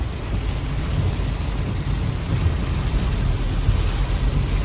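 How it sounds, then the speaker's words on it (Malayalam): A dense, steady roar of heavy rain pours continuously without letup, with no voices. "ബെസ്റ്റ് മഴ എന്ന് പറഞ്ഞാൽ ബെസ്റ്റ് മഴയാ"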